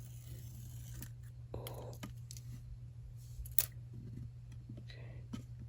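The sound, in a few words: peeling protective film off miniature shop tiles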